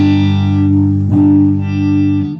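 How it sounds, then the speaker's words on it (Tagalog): Electric guitar on its neck pickup run through an effects unit, a sustained distorted chord ringing steadily with reverb, briefly re-struck near the middle and held close and loud throughout. "Tunog ng neck pickup niya."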